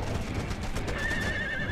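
A horse neighs in a long, shrill whinny while burning in the video game Conan Exiles, rising over a dense bed of crackling fire and game noise.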